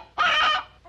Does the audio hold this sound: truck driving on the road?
no